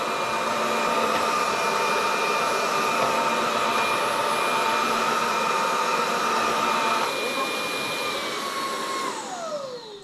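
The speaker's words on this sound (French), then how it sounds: "Et l'aspirateur part vraiment tout seul." A Roborock Dyad Pro wet-dry vacuum cleaner runs steadily with a loud, constant motor whine and brush hum, then winds down with a falling pitch near the end.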